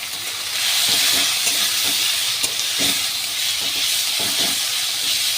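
Onions fry in a pan with a loud, steady sizzling hiss, broken by soft rhythmic scrapes and taps of stirring, close by and unaccompanied by speech.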